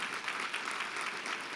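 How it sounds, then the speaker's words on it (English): A luncheon audience at the Economic Club of Indiana gives a round of applause, steady dense clapping heard at a moderate distance for the whole short stretch. "Let's give Larry and the work he does a big round of applause"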